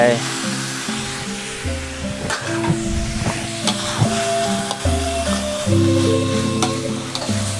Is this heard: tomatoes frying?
yes